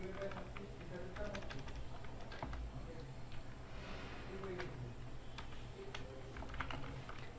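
Computer keyboard typing with scattered quick key clicks, moderately close, running under ongoing talk and steady room noise.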